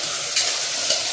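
Fenugreek leaves, eggplant and peas sizzle steadily in a hot pan, with a continuous close hiss and two brief scraping stirs of a spoon.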